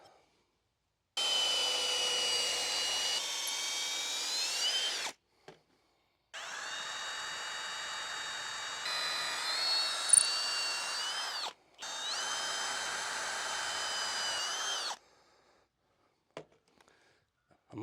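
A power drill boring into hard oak runs in three long whining bursts separated by short pauses, its pitch dipping as the bit bogs down in the wood, loud and close with no talk.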